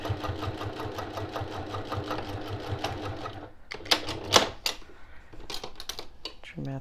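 A sewing machine back-stitching a 1 cm French seam on a boxed zipper pouch, running as a steady rapid mechanical whir for about three and a half seconds, then stopping, followed by a few sharp clicks and thread-trimming taps.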